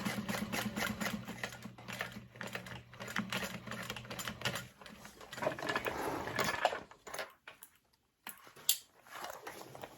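A sewing machine stitching a fabric bag right alongside a seam runs in close, fast mechanical bursts with short pauses, then briefly falls quiet near the end before a few more clicks.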